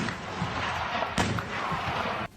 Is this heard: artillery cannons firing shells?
yes